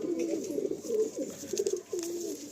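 A Pakistani Kasuri pigeon coos nearby in a series of soft, rolling low calls, steady and close, with no talking.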